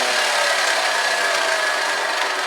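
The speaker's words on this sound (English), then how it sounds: "rough sandpaper here, look, I'm going to just do the edge a bit." Rough sandpaper worked along a knife edge, a loud, close and continuous abrasive rasp that holds steady without pause.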